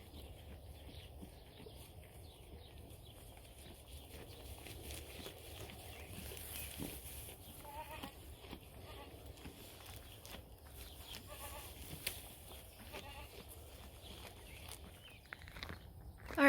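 Goats bleat intermittently on a small farm, the calls moderate and spread over the scene, mixed with footsteps, rustling and occasional birds in a quiet outdoor setting.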